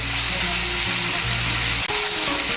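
Pointed gourd frying in oil with green chilli and cashew paste, a loud, steady sizzle close up, with a low hum beneath and one short break near the end, no talking.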